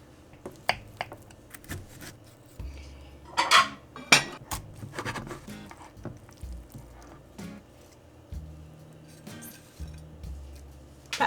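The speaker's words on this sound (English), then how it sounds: "it's time to cut the dessert. Okay, I'm gonna cut the size of the spatula" A spatula cuts a dessert in a pan with scattered scrapes, sharp clinks of metal on the pan and soft squishy pokes, spread irregularly across the clip.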